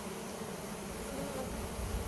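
A honey bee swarm fills the air beside a hive box, the insects slowly clustering; a dense, steady buzzing drone holds close and constant throughout.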